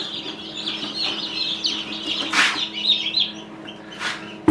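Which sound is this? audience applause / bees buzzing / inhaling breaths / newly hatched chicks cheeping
newly hatched chicks cheeping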